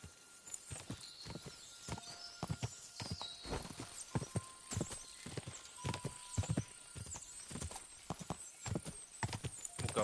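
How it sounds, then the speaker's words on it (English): A horse galloping in the video game Kingdom Come: Deliverance II, its quick hoofbeats clip-clopping in a steady, close rhythm, with a neigh and jingling tack mixed in, and no voices. "O cavalo é bué da lento"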